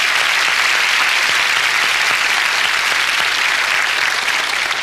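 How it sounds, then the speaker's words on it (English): An audience applauding for Lenore at a live motivational talk, dense, even clapping from a large crowd, loud and sustained throughout with no voices over it. "Why don't you give Lenore a round of applause"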